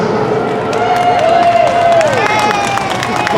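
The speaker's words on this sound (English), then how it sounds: "Clap for Chris." An audience at a B&O railroad turntable demonstration claps and cheers for a man, the applause mixed with crowd voices and a rising and falling whistle-like tone.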